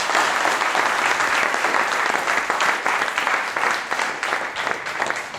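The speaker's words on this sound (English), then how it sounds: "could we have a quick round of applause for our panelists?" Continuous, fairly loud clapping from an audience thanking panelists at an innovation and blue economy panel, a brisk, even wash of hands with no pauses across the full few seconds.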